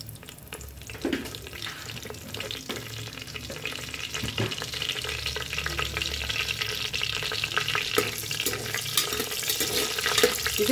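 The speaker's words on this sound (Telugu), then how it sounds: "ఇప్పుడు మనము పట్ట, ఇలాచి, లవంగు, బిర్యానీ ఆకు వేసుకుందాము" Cinnamon, cardamom, cloves and bay leaf frying in hot oil for gongura chicken curry, a continuous close sizzle with occasional stirring clinks that grows slightly denser over time.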